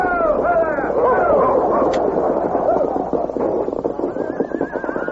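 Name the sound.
horse whinnying, sound effect in radio drama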